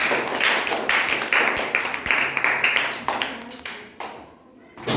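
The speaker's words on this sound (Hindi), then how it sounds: "ताली बजा दो ऋषि के लिए" Classroom applause for a child named Rishi during a Hindi spelling lesson: a burst of many hands clapping, close and lively, fading out near the end with voices murmuring underneath.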